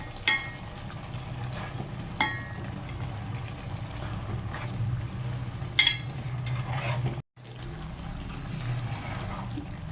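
Guntur chilli powder is stirred into chicken curry in a pan, with repeated scraping spoon strokes over a steady low sizzle of frying, close and moderately loud.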